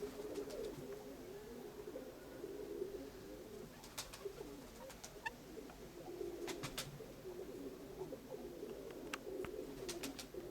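Pigeons kept by fanciers in the Konotop area coo in low, steady murmurs throughout, with a few sharp chirps and clicks over the top.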